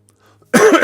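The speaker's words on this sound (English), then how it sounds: "Had to cough." A person coughs once, right into the microphone: a loud, sudden, harsh burst after a near-silent moment, with no talking.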